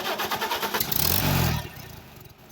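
A Farmall Super A tractor engine fitted with a brand new carburetor cranks and catches, its rapid chugging pulses swelling into a brief louder surge before settling back toward a slow, even idle, heard close with no talking.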